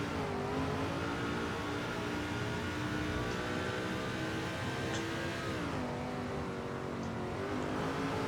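Race car engine in the NASCAR 2005 video game holds a steady high-revving drone through a straightaway, with harmonics shifting and dipping briefly near the end as revs drop and recover, loud and continuous with no talk.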